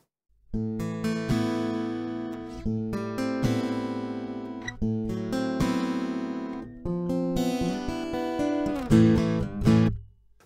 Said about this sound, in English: if you do take an acoustic and plug it directly into a PA